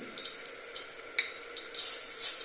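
Lentil fritters (pakora) dropped one by one into hot white oil in a wok over lowered heat, giving several sharp close sizzling bursts that swell into a steady bright hiss.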